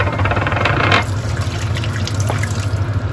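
Hot water is poured into a pan of curry with dry spices, producing a brief splashing gush followed by a soft continuous liquid hiss with no talking.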